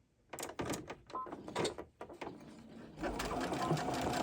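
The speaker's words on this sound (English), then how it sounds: "I'm going to sew this elastic down" A sewing machine stitches elastic down onto a fabric dog bandana, running in short stop-start bursts of rapid needle chatter before settling into a longer continuous run, close and fairly quiet.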